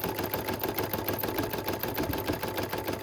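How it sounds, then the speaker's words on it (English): Embroidery machine stitching a coaster on a heavy, tight satin stitch, a fast steady mechanical rattle of needle strikes running continuously at moderate level with no talk. "now it's coming back to do the heavy stitch"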